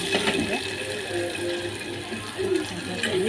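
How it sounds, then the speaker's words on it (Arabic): A cup of vinegar poured onto Egyptian fatta, a gushing, splashing liquid pour close by with faint clinks and a constant kitchen hum underneath. "ننزل بقى عليها برضه مع كوبايه من الخل"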